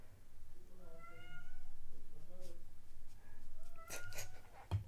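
A cat meows repeatedly in long, drawn-out, whiny cries at close range, the calls rising and falling in a dramatic series with brief gaps, followed by a few faint knocks and rustles near the end.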